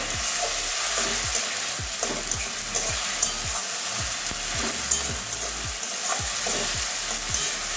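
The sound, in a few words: tomato paste frying with garlic and ginger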